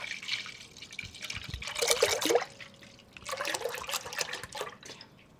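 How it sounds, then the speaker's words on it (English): Whole milk pours into a pot in a kitchen, a liquid splashing and trickling in two bursts with a brief pause between, close and fairly loud, with no talking. "So we're going to start off by pouring our whole milk into our pot."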